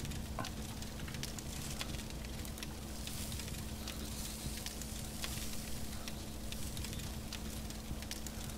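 Meat cooking over a fire in the DayZ video game, a continuous crackling sizzle with scattered sharp pops over a low steady hum, fairly faint and unbroken, with no voices.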